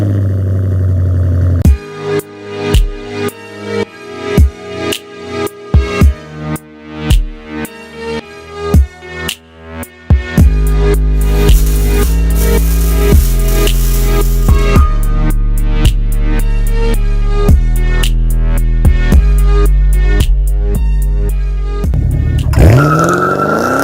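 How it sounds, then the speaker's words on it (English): A 2016 Chevrolet Camaro 2SS V8 with muffler delete revs in a series of sharp, loud throttle blips, then settles into a deep, steady rumbling idle with occasional pops, close by. "here I got the muffler delete on my 2016 Camaro"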